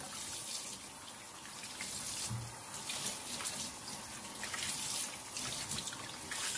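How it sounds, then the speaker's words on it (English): A kitchen tap runs steadily while chitterlings are rinsed one by one in a sink, a continuous close splashing hiss with small shifts in the flow as the pieces are handled. "I'm just going to start rinsing them one by one, just checking over them"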